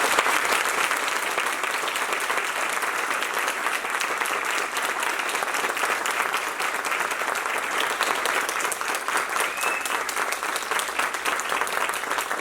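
A large audience at an award ceremony for the Maciel Monteiro Medal and Diva Montenegro Prize claps steadily and loudly for over twelve seconds. The applause stays dense and unbroken throughout, with no talk over it.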